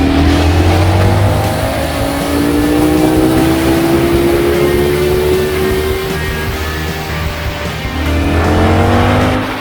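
A Ducati Streetfighter V4 motorcycle accelerates at full throttle in second gear, its loud, close engine note climbing steadily in pitch for several seconds before dropping off and starting to build again.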